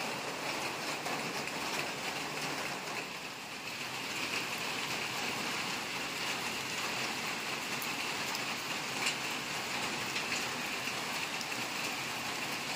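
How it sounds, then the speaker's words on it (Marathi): Continuous steady rainfall pattering on surfaces, a dense even hiss that holds unchanged throughout with no voices. "थंडी लागेल ना, पाऊस चालू झाला"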